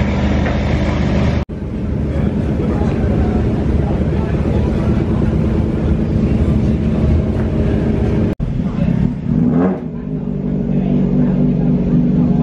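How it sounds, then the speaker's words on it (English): Motorbike and sidecar outfits idle in the Goodwood Motor Circuit paddock at the Members Meeting: a loud, continuous engine drone with two brief dropouts, and a rising, revving swell near the end. "These are all the motorbike and sidecars that have taken part in the demo this year."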